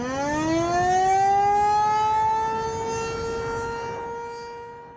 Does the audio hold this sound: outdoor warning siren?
yes